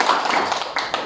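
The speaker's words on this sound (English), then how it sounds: "Let's give a barangay clap." A classroom of students performs a short rhythmic group clap, a quick series of sharp, close claps in a patterned beat.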